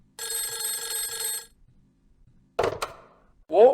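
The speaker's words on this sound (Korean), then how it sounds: "12시 43분 윤석열 대통령의 전화가 또 한 차례 13분 43초간 이어집니다" An old-style telephone bell rings in one continuous metallic trill lasting just over a second, loud and close. After a pause come a couple of short handling thunks and a brief voice.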